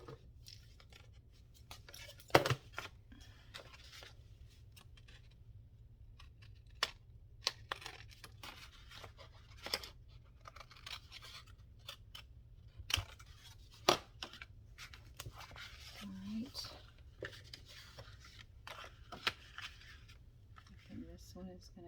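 Scissors snip through material to cut off a piece for a junk journal cover, short crisp cuts scattered across a quiet room with soft rustling and handling between them, and a voice speaks at times.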